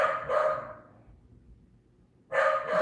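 A dog barks in two bursts, once at the start and again near the end, loud and close, with a quiet pause between.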